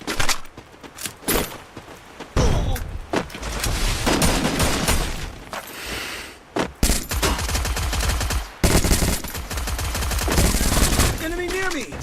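An M60 EVO machine gun fires in a mobile shooter video game, with long dense bursts of automatic gunfire. Loud, near shots continue almost without pause, broken by brief gaps and sharp single cracks.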